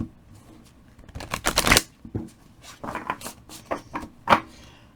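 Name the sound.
shuffling tarot cards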